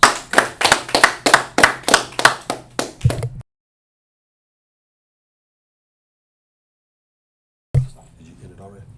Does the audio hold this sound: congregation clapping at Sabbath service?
yes